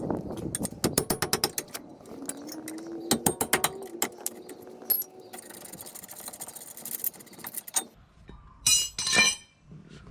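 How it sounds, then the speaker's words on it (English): Brake caliper mounting bolts being removed on a 2013 Mazda 5, quick rapid ratchet clicks in bursts with metallic clinks and rattles of tools and parts, close and alone. "Removing these 2 caliper mounting bolts."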